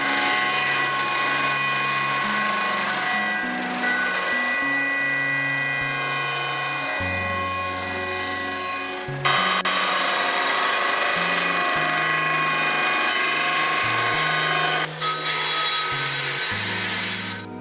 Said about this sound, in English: And then grinding all the edges smooth.